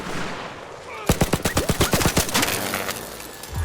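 Rapid bursts of automatic gunfire in the video game Arc Raiders, a quick string of sharp loud shots after a brief quiet start, followed by fainter echoing reports.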